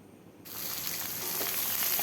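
Kharkhol stalks dropped into a pan of frying potatoes set off a sudden loud sizzle that starts abruptly and then hisses on steadily, close up.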